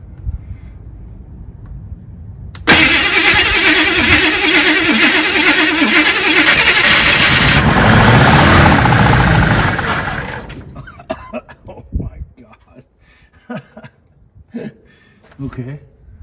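A 1963 Chevrolet Nova coupe that sat for over a decade cranks and fires up with a loud sudden engine roar lasting several seconds, then sputters and dies into uneven coughing and clunks with faint talk in the workshop.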